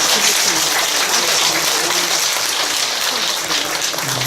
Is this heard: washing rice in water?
no